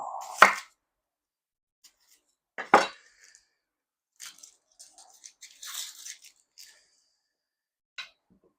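A kitchen knife chops an onion for a duck gravy meal: two sharp, close chops separated by a pause, followed by lighter scattered clinks and taps on the board.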